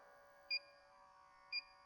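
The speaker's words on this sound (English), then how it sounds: "it's a sniffer. It sniffs for refrigerant. When it finds it, it beeps like hell." An Inficon refrigerant leak detector, a sniffer for air-conditioning refrigerant, gives two short, faint electronic beeps about a second apart over a low steady hum.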